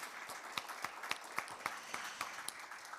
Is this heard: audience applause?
yes